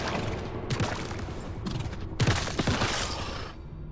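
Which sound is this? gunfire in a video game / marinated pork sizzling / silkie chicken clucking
gunfire in a video game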